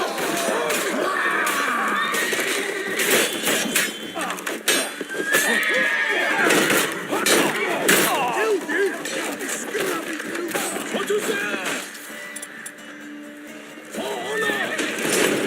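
Horses neigh and whinny repeatedly amid hoof clatter and shouting voices in a Witcher 3: Blood and Wine battle, loud and busy with layered cries throughout.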